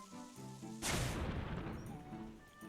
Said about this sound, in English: So if we use a bomb on this wall here,